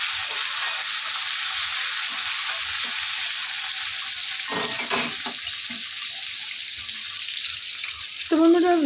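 Chopped tomatoes fry in spiced oil in a home kitchen with a steady, bright sizzle, a few brief stirring scrapes breaking in near the middle and again near the end.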